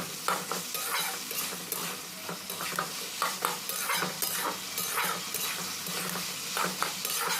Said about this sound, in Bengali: আদা রসুন বাটা দিয়ে আবারও দু মিনিট এইভাবে নাড়াচাড়া করে নিতে হবে